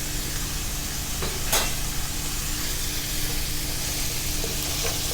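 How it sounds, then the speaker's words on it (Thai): Minced pork stir-fries with carrot and baby corn in a hot pan for Thai sugar peas stir-fry, giving a loud, continuous close-up sizzle broken by a few scraping stirs. "เมื่อหมูสุกแล้วเราก็จะใส่ผักที่สุกยากนะครับใส่ลงไปผัดก่อนครับผม แครอทกับข้าวโพดอ่อนครับ"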